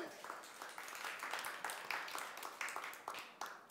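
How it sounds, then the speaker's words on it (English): A live audience at a body language talk gives a faint, distant round of applause, with many hands clapping in a dense, steady patter for several seconds. "round of applause for all those people"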